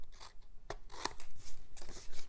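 Scissors cut the corners of a paper box: a few soft snips and crisp paper rustles over about two seconds, close and quiet, with no speech.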